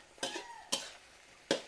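Mustard greens and pork being stir-fried in a home kitchen, with three sharp scraping stirs of a spatula against the pan spaced apart over a faint, low sizzle.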